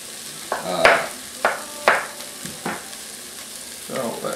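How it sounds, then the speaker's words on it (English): Carrots and onions fry in a pan for spaghetti sauce, with a few loud scraping stirs cutting through a steady sizzle at close range. "It's starting to burn a little, so I'm going to take it off the heat."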